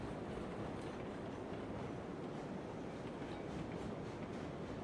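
A train running in the Railroads Online video game, a steady broadband rumble with faint rail clatter that holds constant and fairly loud throughout, with no talking.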